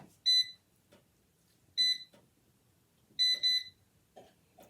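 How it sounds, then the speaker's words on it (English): An air fryer's control panel gives sharp electronic beeps as the temperature is set to 320, three short bursts spaced over a few seconds, with faint handling sounds between them. "I'm going to set the air fryer at 320"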